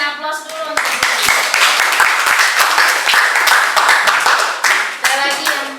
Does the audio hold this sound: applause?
yes